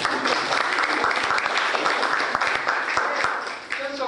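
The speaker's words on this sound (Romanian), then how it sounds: "Hai să o aplaudăm." A crowd applauds loudly and steadily at the opening of a painting exhibition, dense clapping filling the room before tapering off at the end.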